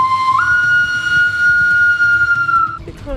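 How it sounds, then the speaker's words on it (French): A sharp, steady whistle blast during a hide-and-seek game in a villa in Mexico, rising slightly in pitch at the start and held loud for over two seconds before cutting off, over low room rumble. "Avec le sifflet de Maya."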